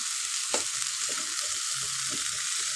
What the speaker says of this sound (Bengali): এবার পুরোটাই কষাবো